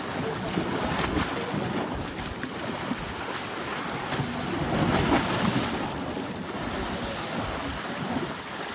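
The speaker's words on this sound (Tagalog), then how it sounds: "Mahangin na eh, mahangin." Strong wind on Santorini, Greece buffets the microphone with steady roaring gusts, mixed with a wash of waves or water; no speech is heard.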